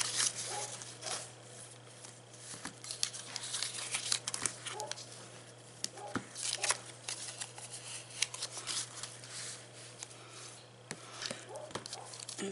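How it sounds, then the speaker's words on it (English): Paper being burnished and folded along score lines with a bone folder for a small bag: close, irregular crinkles, rubbing swipes and crisp creasing sounds over a faint steady hum. "I'm going to bring in my bone folder and then just burnish and fold in my score lines"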